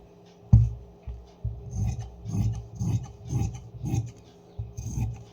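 Scissors cutting along the fabric edge for a Patiala salwar, a series of about eight rhythmic low rasping snips, close and clear, with no talking.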